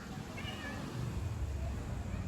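A cat meows faintly from a sheet-metal roof, giving one or two short, thin calls over a low background hum.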